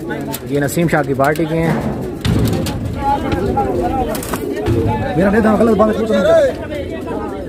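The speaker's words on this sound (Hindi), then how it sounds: "ये कबूतर हैं" Pigeons coo and call at a pigeon flying competition in Pakistan, heard close under steady crowd chatter, with someone speaking over them throughout.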